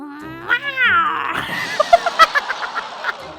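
A cat in The Sims life-simulation game gives a loud, close, drawn-out meow, followed by a string of shorter chirping mews.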